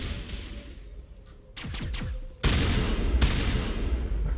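Gunfire in the Mass Effect game on Ilos, with bursts starting midway and turning into a loud, sustained volley of shots that fills the final two seconds.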